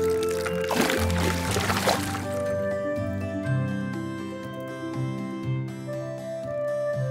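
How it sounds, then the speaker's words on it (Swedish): Water pours and splashes from one box into another for about two seconds in a children's cartoon, then gives way to steady background music. "Vi häller vattnet från en låda till den andra."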